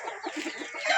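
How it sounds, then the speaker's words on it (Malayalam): Chicks of a laying-hen breed chirp and cheep together on a farm, a steady, bright flutter of small overlapping calls close by, with no speech. "അത് കോഴിക്കുഞ്ഞുങ്ങളാണ്. ഇത് മുട്ടക്കോഴി വർഗത്തിലുള്ള"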